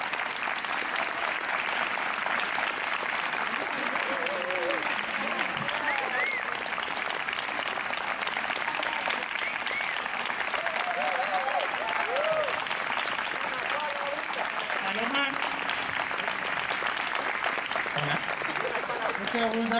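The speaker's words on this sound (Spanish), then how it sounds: "Así que, por favor, un aplauso" Sustained applause from an audience honoring two directors at an event, steady and dense throughout with voices and cheers mixed in the crowd.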